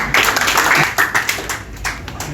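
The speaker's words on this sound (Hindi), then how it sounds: "उनके लिए तालियां बजाओ" Audience clapping at a cancer-care seminar and award ceremony, honouring the doctors, comes as a steady, dense patter of many hands for a couple of seconds, easing slightly toward the end, with faint voices mixed in.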